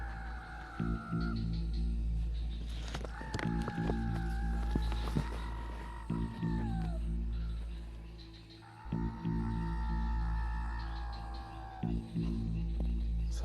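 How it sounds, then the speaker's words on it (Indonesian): In a dark forest at night, a bird calls out in loud, drawn-out cries that sound like a crow, two long calls separated by a pause over a low, constant hum. "Burung gagak ya? Keras banget suaranya."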